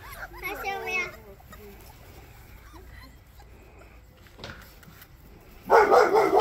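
Several young puppies yip and bark in short bursts close by, with a child's and an adult's voices talking around them and a louder burst of barking near the end.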